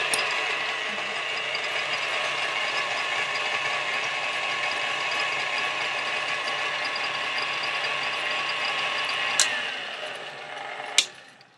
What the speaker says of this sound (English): So we're going to mix this together.